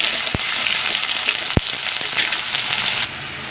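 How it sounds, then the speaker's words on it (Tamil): Chopped onions sauté in hot oil for a Chettinad fish gravy, a constant close hiss with a couple of sharp pops and crackles. "இந்த வெங்காயம் வந்து லைட்டாக ப்ரௌன் ஆகட்டும்"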